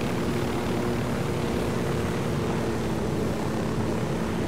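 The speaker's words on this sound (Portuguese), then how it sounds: "Cara, ficou muito legal esse helicóptero aqui." A helicopter flies in the video game Ghost Recon: Wildlands, its engine and rotor making a constant, loud, even drone that fills the space with no voices over it.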